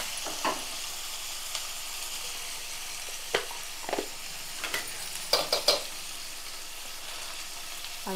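Ginger garlic paste being stirred into mutton curry frying in a pan, a constant soft sizzle broken by several sharp scrapes and clinks of a spoon against the pot, close up and without talk.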